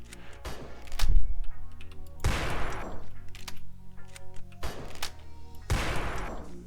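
Shotgun blasts in a Steam video game, four loud, booming shots spaced a second or two apart, each with a sharp crack and a rolling tail, with game noise underneath and no talking.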